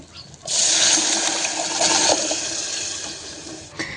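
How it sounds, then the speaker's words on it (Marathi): After a brief quiet moment, water is poured into a pot of sautéed dal and potato curry, giving a loud, steady rushing splash that slowly fades toward the end. "भाजीमध्ये थोडंसं पाणी घालून घ्यायचं आहे"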